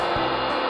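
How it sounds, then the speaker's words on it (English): An air popper pops popcorn kernels with a constant, close, loud rush of blowing air and a steady motor hum. "Pop half a cup of popcorn kernels in an air popper."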